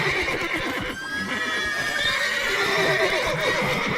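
Horses in stables in The Witcher III video game whinny loudly and repeatedly over a busy bed of hoof clopping and shuffling, close and continuous with no voices.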